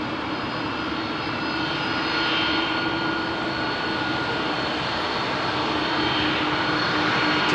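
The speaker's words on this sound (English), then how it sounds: "Just love the sound of those engines, man. Old school, multi-bladed." Loud, steady drone of old multi-bladed propeller aircraft engines departing London Heathrow, a broad continuous roar with a faint tonal hum, unbroken throughout.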